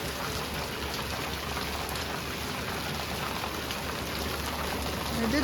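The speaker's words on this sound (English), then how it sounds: "This is what South Dakota rain looks like." Heavy South Dakota rain pouring down steadily, a dense even hiss of drops hitting surfaces, close and constant with no pauses.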